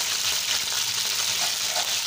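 Onions sizzling steadily in oil in a pot for aloo matar gosht, a continuous bright frying hiss with faint bubbling and occasional soft stirring, close and even throughout.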